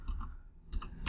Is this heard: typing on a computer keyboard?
yes